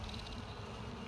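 Honey bees from an opened hive hum steadily during a spring inspection, a soft continuous buzz at low level with no talking.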